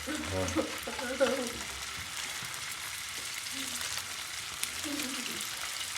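Sandwich filling frying and sizzling in a pan for a chicken grill club sandwich, a steady crackle with occasional stirring clinks, with some talk early on.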